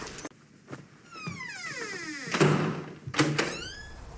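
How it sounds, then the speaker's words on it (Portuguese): A door swinging shut, with a loud rising creak of the hinges, a few knocks, and a thudding close, all heard close up with no talking. "Ele entrou e fechou a porta."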